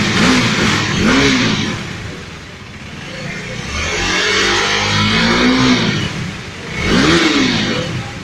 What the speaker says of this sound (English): hear the exhaust note